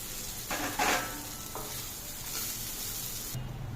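Rice tossed and stir-fried with drumstick leaves in a pan, a soft steady sizzle broken by a few louder scraping stirs, close and alone.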